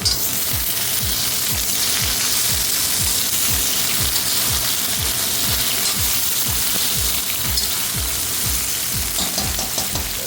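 Okra (lady finger) frying in a pan, a loud, constant hissing sizzle over a steady rhythmic low ticking that continues without a break, and no one speaks.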